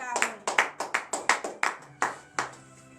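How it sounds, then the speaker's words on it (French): A few people in a church congregation at morning prayer clap in a slow, loose rhythm of about nine sharp, close claps, with faint voices under them. "donnez de vives acclamations à cette"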